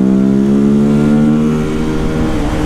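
A BMW 310GS motorcycle engine drones loudly and close while descending a mountain road, its pitch sliding down steadily as it runs through the gears.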